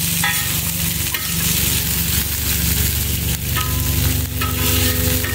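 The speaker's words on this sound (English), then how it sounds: "Make sure it's all in the oil." New York strip steak and cheese sizzling in oil on a Blue Rhino Razor griddle while a spatula keeps stirring and scraping, a loud continuous fry close up with rhythmic metallic scrapes.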